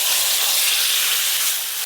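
A mustard curry being tipped into hot oil for tempering gives a loud, steady hissing sizzle that cuts off abruptly at the end.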